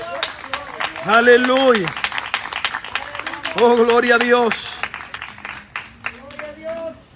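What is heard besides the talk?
church congregation applauding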